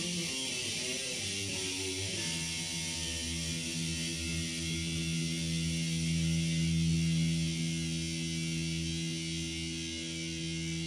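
A distorted electric guitar rings out with a steady sustained chord, heavy buzzing overtones holding for several seconds with a low hum underneath.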